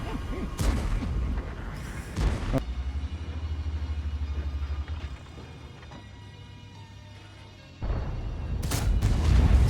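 Heavy booming tank cannon shots in a video game, involving an FV4005 Stage II, bracket a steady low engine rumble, with a couple of sharp blasts near the start and another at the end.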